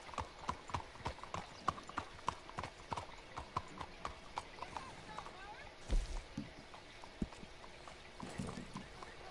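Horse hooves in the Red Dead Redemption 2 video game, a steady rhythmic clip-clop of a galloping or trotting horse, close and moderately loud, with a brief thud midway.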